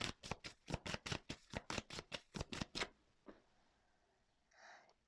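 Tarot-style cards are shuffled for a card reading in a quick burst of about a dozen crisp, rhythmic slaps. A faint tap and soft rustle follow, close and quiet, with no talking.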